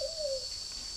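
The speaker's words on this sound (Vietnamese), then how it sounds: "con này con giọng còi vang rất là hay" A caged songbird in a peach-shaped cage gives a clear, ringing whistle call, a single short gliding note against a steady high background hiss, fairly faint and alone.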